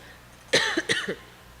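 A single close, harsh cough bursts out in two or three quick spasms, then stops, leaving quiet room tone.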